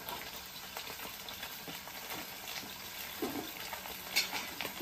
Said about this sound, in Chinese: 鱼你要煎这个大火，小火煎它。